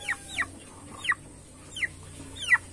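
Chickens and a rooster on a farm give a few brief, sharp clucks spaced irregularly, moderately close against a quiet background.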